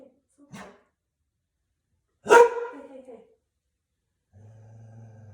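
A dog at home barks at cats, giving a short bark, then a louder sharp bark a moment later, with a quiet low hum continuing afterward.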